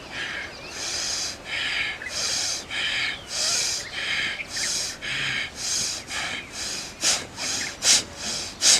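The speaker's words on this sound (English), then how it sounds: "rigorous breathing." Rapid, forceful pranayama breathing exercise, a series of about a dozen sharp, loud breaths in an even rhythm that grow shorter and punchier toward the end, heard close up with no talking.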